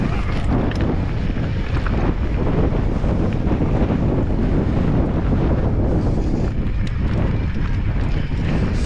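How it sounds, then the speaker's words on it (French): Gusty wind buffeting the microphone during an electric mountain bike descent in the Basque Country near Munhoa, a loud, constant roaring rumble that fills the whole stretch without letting up, no voices heard. "ça souffle, c'est rafaleux"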